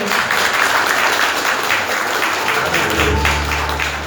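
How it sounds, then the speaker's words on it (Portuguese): Church congregation applauding to welcome a speaker at a worship service, a dense, loud, sustained wash of many hands clapping together with faint voices mixed in. "E assim nós recebemos o irmão Adão com a salva de palmas para Jesus"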